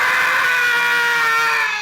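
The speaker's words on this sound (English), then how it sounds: "We're doing screaming because Game of Thrones made me scream." A person lets out a loud, sustained scream, one continuous high, strained cry held for nearly two seconds before trailing off slightly at the end, with no talk.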